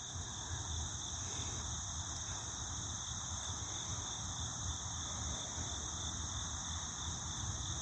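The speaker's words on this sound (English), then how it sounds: "Y'all hear the crickets?" Crickets chirp in a continuous, shrill, high trill that fills the morning air, with a low rumbling background underneath and no voices.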